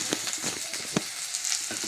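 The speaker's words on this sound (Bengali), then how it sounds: "একটু ফাটিয়ে ভেজে দেবো।" Ginger frying in hot oil in a pan, giving a close, steady sizzle broken by sharp crackles and pops across the short stretch, with no talking.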